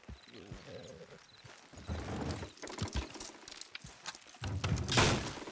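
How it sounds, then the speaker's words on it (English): Hooves clopping in an uneven rhythm with creaks and mechanical thunks as horses haul a load in Red Dead Redemption 2, building to a louder burst near the end. "Horses will pull it clean down."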